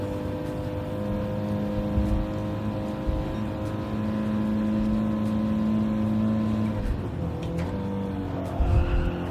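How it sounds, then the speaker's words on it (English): Audi race car engine in Gran Turismo 7 at Willow Springs, a steady sustained drone holding at one pitch, shifting briefly near the end, with faint tire noise underneath and no talk. "Oh, I love the sound of the Audi."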